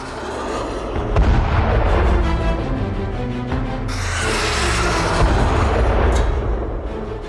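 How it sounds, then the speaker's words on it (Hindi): A Russian hypersonic missile launches with a loud, sustained roaring rumble lasting several seconds. A brighter rushing surge comes midway through. "जैसे ही पुतिन ने ऑर्डर दिया, हाइपरसोनिक मिसाइल फायर कर दी गई और चंद मिनटों में टारगेट ध्वस्त हो गया।"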